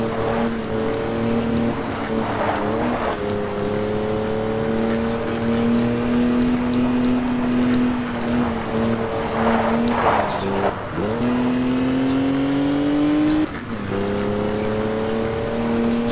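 Race car engines drone steadily and loudly in the Alarm für Cobra 11 Undercover video game, pitch rising and dipping with shifts and a brief tire squeal near the middle, continuous throughout.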